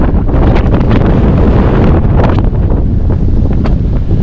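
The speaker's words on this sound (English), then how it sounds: "I've been walking into this headwind the entire time." Strong headwind buffeting the microphone on a hiking trail near O'Malley Peak, a loud, continuous low roar with gusty swells that never lets up for the whole stretch.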